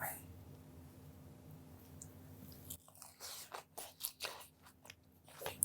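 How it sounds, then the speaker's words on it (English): A bite of watermelon, feta, cucumber and tomato salad with arugula and onion brings a series of close, wet crunching chews after a quiet start with faint background hum. "This is gonna be an epic bite."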